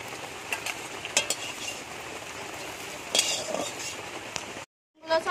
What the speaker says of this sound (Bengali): ডিমগুলো ভাজা হয়ে গেছে, এরকম লাল করে ভেজে নিতে হবে।